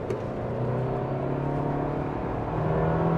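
Steady engine drone of a 2025 Toyota 4Runner TRD Sport Premium accelerating at about half throttle, a smooth, loud, sustained hum with a slight rise in pitch toward the end, heard from inside the cabin.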